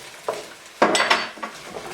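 A utensil stirs aromatics and garlic in a pan over medium-high heat: sharp metallic clanks and scrapes come in a few separate bursts over a faint, low sizzle.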